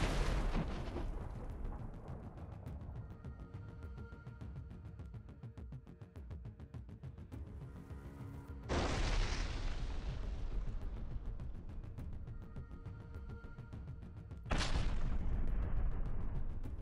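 Explosions from Russian FPV drone strikes on T-64 tanks and a 120mm cannon in the Sumy region: a heavy blast opens, then two further sharp booms follow at long intervals, each trailing into rumbling debris noise.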